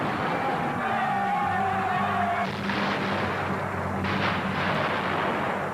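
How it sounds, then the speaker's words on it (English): Gun battle between two tenement buildings in a film, a dense, continuous roar of gunfire and blasts with a sustained tone early on, loud and unbroken throughout. "an amazing gun battle that takes place between two tenement buildings"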